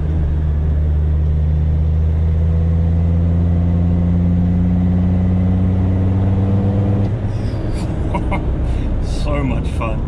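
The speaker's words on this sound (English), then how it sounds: "it just pulls and pulls and pulls up that hill in fourth gear" Remapped Land Rover Defender engine pulling uphill in fourth gear, a loud steady drone with rising harmonics that drops off as the load eases, close inside the cab.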